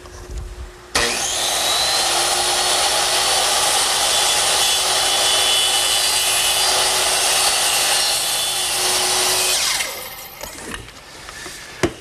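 A power saw making short freehand angled cuts in wood while building a chest of drawers in a workshop, one loud continuous whining cut lasting about nine seconds, then a few light knocks.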